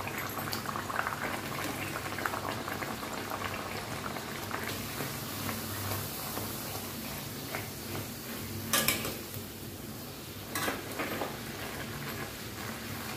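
Bhature dough frying in hot oil makes a dense, continuous bubbling sizzle that stays close and even throughout, with a couple of slightly louder crackling bursts and no talking.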